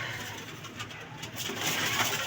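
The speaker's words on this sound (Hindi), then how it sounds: "हमारा लाल परी कबूतर है मुबशर भाई के घर का।" Soft cooing of a Lal Pari pigeon over a steady background hum, a low repeated murmuring call that swells slightly toward the end.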